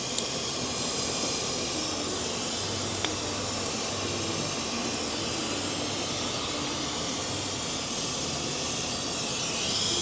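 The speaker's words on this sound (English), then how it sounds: "Beginning vacuuming procedure now." A vacuum pump draws air out of a Buick's cooling system with a steady, even hiss and whoosh that holds at constant volume throughout, with no talking.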